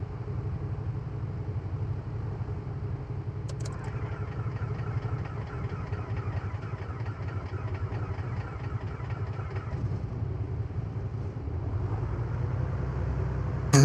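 A simulated aircraft engine idles after priming in Microsoft Flight Simulator 2024, a steady low droning rumble that holds evenly throughout with no voices over it.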